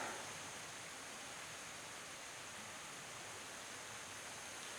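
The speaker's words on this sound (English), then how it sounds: "There's a little No Business Creek down below us." Steady rushing water hisses continuously, No Business Creek flowing somewhere below in Big South Fork, broad and even with no pauses.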